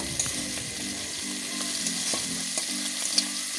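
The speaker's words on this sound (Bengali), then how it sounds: "এরপর আমি চিংড়ি মাছগুলো মিনিট দুয়েক মতো ভেজে নেবো" Prawns fry in hot oil for a lau chingri dish, giving a steady close sizzle with a few light stirring clicks and a faint tonal hum underneath, no voices.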